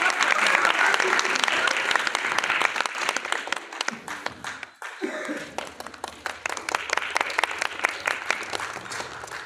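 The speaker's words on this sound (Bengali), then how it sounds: "জোরে হাততালি হয়ে যাক।" An audience claps loudly and continuously at the closing night of a national theatre festival in Naihati, with a brief dip in the middle before the sustained applause picks up again.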